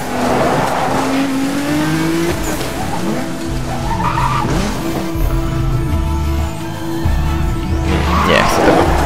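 Nissan GT-R racing in Need for Speed Most Wanted, its engine droning and shifting pitch with tire skids and squeals, loud and continuous, with occasional voice talk over the game audio.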